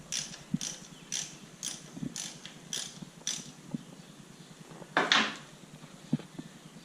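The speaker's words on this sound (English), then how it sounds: "So we're going to pull the drain plug on the primary fluid, just a 5/8 socket." Ratchet with a 5/8 socket working the primary drain plug on a 2014 Harley-Davidson Dyna, a series of short quick clicking bursts at close range, with a louder metallic clack near the end, no talking.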